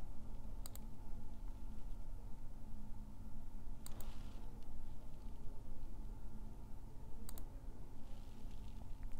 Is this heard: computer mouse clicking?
yes